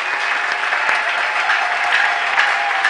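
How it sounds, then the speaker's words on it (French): Church congregation in Brazzaville applauding and cheering, a dense, steady wash of clapping with scattered shouts, loud and close throughout without a break. "Est-ce qu'on peut les recevoir avec des acclamations?"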